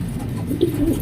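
A racing pigeon, a club-ringed flyer, coos softly at close range, with low murmuring coos repeating over a steady low background rumble.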